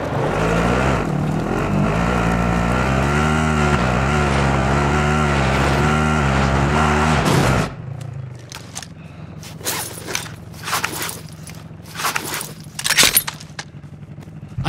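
A vehicle engine drones steadily and close while driving in Call of Duty Modern Warfare battle royale, then cuts out, leaving scattered sharp clanks and impacts.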